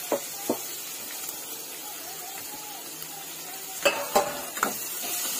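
Onions and capsicum fry in a pan, with a soft steady sizzle underneath and a few sharp utensil knocks and stirring clatters, clustered near the end.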